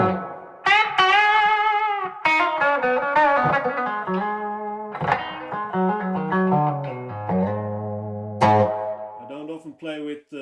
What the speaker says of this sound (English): So this is the SG, obviously, with the Dumble clean.